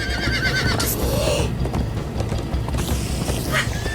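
A horse whinnies in a Minecraft: Story Mode ride scene, a loud close neigh at the start and another near the end, over steady galloping hoofbeats and background game sound.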